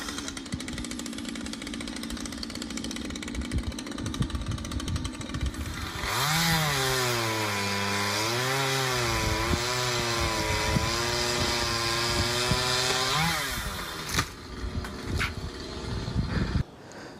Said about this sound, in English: Next on the list was trimming branches on one of our massive oak trees.